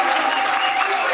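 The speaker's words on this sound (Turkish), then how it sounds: "Hasan Ali Sezer'i bir kez daha yürekten alkışlıyoruz." A studio audience gives steady, loud applause for Hasan Ali Sezer at the close of a live evening show, with a dense wash of clapping through the whole moment.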